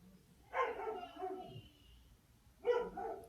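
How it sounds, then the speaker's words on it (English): A pet dog indoors in a house gives two muffled, whiny barks about two seconds apart, at moderate distance and fairly quiet, with no talk over them. "Don't mind my dog barking"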